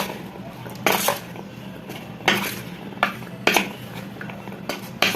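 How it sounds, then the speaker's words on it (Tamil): Sweet corn being mixed with rice flour in a bowl, heard as clinking and scraping strokes of a spoon against the bowl at irregular intervals, close and fairly loud, no talking. "மாவு கொஞ்சம் கொஞ்சமாக இப்படி போட்டு கலரிடுங்க"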